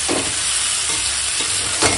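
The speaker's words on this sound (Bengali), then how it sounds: "একদম দমদার কষানো হচ্ছে" Chicken kosha cooks down with spices in a pan, giving a continuous close sizzle. A spoon stirs and scrapes it with a few soft knocks, and no one speaks.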